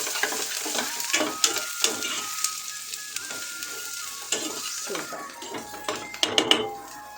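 Onions fry in a pan with a soft, steady sizzle, broken by stirring scrapes and intermittent clinks of metal utensils. A voice talks over part of it.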